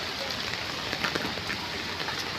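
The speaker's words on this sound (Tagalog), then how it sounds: "Maghapon ng ulan guys." Heavy rain pours steadily on a surface during a rainy morning, a dense, continuous hiss with no breaks, close and loud throughout.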